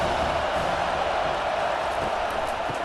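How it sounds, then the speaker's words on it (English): A dense stadium crowd roars steadily throughout a College Football 25 game between Alabama Crimson Tide and Tennessee Volunteers, a broad, continuous wash of noise with no break. "This crowd bringing the energy and noise early."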